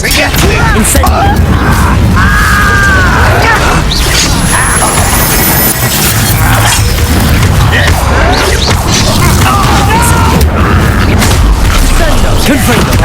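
Incendio fire spells cast in Hogwarts Legacy during loud, constant combat: repeated booming whooshes and crashes with magical whines, mixed with voices and heavy battle noise throughout.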